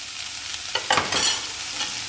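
Paneer and long-cut bell peppers are stirred in a hot frying pan, a brief burst of close scraping and sizzling swelling in the middle over a constant hiss.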